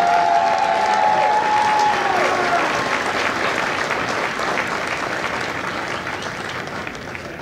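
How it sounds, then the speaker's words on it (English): Crowd applause at a Marine Corps recruit graduation ceremony at MCRD San Diego honoring the Echo Company staff, a broad sustained clapping from a large audience that fades slightly toward the end. "Ladies and gentlemen, please join me in a round of applause for the company staff of Company E."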